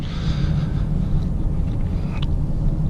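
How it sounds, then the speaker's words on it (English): Engine induction noise from a 2017 Ford Edge Sport, piped through the cabin speakers, forms a steady low droning rumble with continuous road noise inside the SUV. No one speaks. "induction noise from the engine out of, you know, the speakers surrounded in the car"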